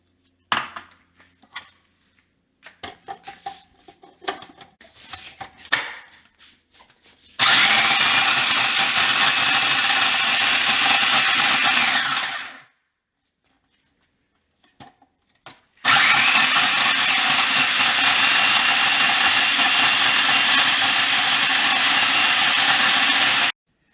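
A blender grinding ground coffee, pitted dates and walnuts into a crust mix: a few short rattling pulses, then two long loud bursts of steady grinding whir separated by a few seconds of silence, close and alone.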